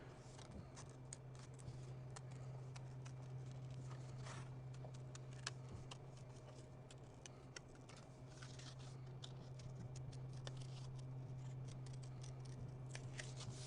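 Scissors snipping through paper while cutting out paper chess pieces, a quiet, steady run of small crisp cuts over a low constant hum, close by with no talking.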